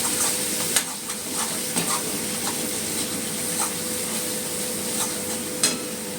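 Cumin powder stirred into oil in a frying pan for a winter potato curry, a steady close sizzle and hiss with light scraping stirs throughout.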